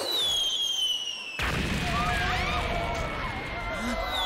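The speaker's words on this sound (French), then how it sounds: "C'est quoi ces explosions?" Explosions in an anime episode: a loud blast cuts in abruptly and sets off a dense burst of crackling, booming detonations, with high whistling tones heard before and through it.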